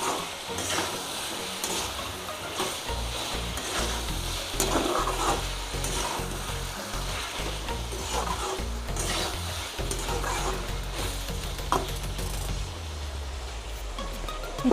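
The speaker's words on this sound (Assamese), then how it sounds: "ভালদৰে লৰাই দিম।" Goat meat with the skin on, cooked Assamese style, frying and sizzling in a pan while being stirred, with repeated scraping strokes over a steady crackle, close and fairly loud, no talking.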